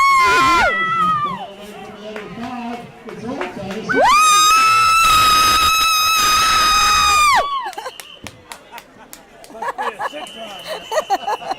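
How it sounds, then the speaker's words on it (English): A crowd at a summer event cheers for a girl named Talia, with loud, high children's shouts and screams rising into a sustained cheering peak, then dropping back to scattered chatter and yells. "Hey, good cheering."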